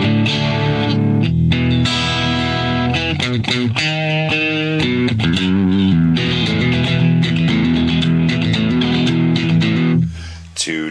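An electric guitar with split coils plays through a Boss Katana amp with no distortion pedal, giving bright, sustained chords and single notes that ring out loudly for several seconds before fading at the end.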